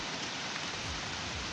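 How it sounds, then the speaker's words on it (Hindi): Heavy monsoon rain pours down in Chamoli, a dense, steady hiss of downpour close by with no break, filling the short stretch evenly. "बीती रात से लगातार मूसलाधार बारिश हो रही है वहां पर"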